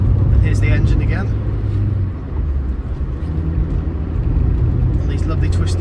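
A Rover R8 214 Si car engine drones steadily while driving on twisty roads, a continuous loud low rumble with road noise and a dip around the middle, no speech over it.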